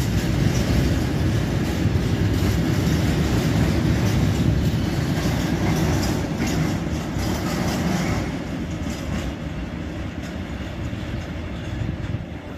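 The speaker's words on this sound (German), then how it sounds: "So, jetzt finde ich dann gleich noch die Einfahrt." A regional train pulls into Gemünden am Main station in Bavaria with a loud, steady rumble and rhythmic wheel clatter that gradually eases as it slows.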